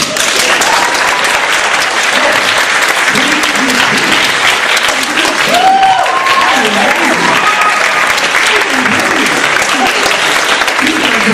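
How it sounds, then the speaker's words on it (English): A large audience applauds continuously, a dense, loud wash of clapping that holds steady throughout, with occasional voices and cheers mixed in the crowd. "they're still applauding?"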